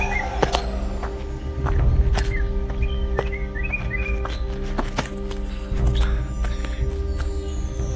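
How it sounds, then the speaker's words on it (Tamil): Sparrows chirping at a hill resort near apple orchards and a waterfall, with bright scattered tweets over a steady outdoor rumble, plus several sharp taps and footstep-like knocks throughout. "அந்த குருவி சவுண்டு, அதெல்லாம் அருமையாக இருக்குது"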